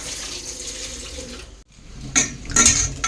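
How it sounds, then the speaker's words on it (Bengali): Rice being rinsed in a pot under running tap water, with water splashing and the metal pot clinking as grains are swirled, pausing briefly before the splashing resumes louder. "তো চালগুলোকে আমি ধুয়ে নিচ্ছি, আর এদিকে দেখো এই যে জল দিয়েছি"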